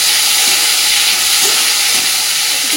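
Prawns going into hot mustard oil with black cumin and green chili in a kadai, a loud continuous hissing sizzle close up with a few soft clatters.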